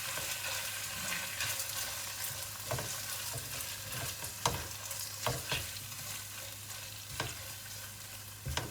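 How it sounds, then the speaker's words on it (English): Washed and drained rice is stir-fried in a pan, giving a soft continuous sizzle with a low hum underneath and sharp scrapes and taps from the spoon every second or two, fairly quiet and close. "See, the rice was washed and drained. So now you just stir fry for a little while."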